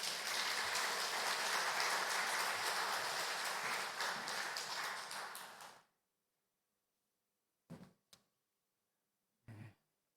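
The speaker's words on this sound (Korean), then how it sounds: "우리 목사님 나올 때 박수로 우리 맞이하도록 하겠습니다" A church congregation applauds to welcome a guest pastor at a Sunday founding-anniversary service. The full, sustained clapping lasts several seconds before stopping abruptly, leaving near silence broken by a couple of faint thumps or coughs.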